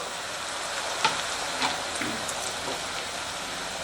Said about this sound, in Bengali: এবারে ওই আলুটা আমি খানিকটা দিয়ে ভেজে নেব